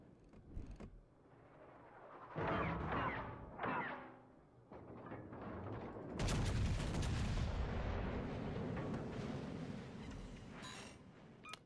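Front guns of a warship firing salvos in World of Warships Legends, heavy booming blasts in bursts with a long rumbling roar of fire, loud and close.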